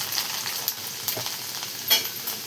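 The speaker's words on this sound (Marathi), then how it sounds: "बघा इथं लसूण आणि जिरे टाकून घेतलेले" Mustard seeds, garlic and cumin sizzling in hot oil in a kadhai, a steady close frying hiss with occasional crackles and pops, no voices.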